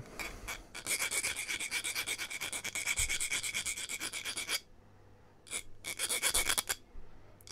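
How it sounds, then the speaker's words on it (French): A file rasps rapidly back and forth over a plastic shim in quick rhythmic strokes, stops briefly, then resumes with a few shorter scraping passes. "je vous passe juste un petit coup de lime"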